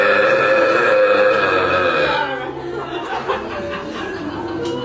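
A drawn-out, rumbling burp breaks into someone speaking in a crowded room, followed by murmuring voices and scattered chuckles.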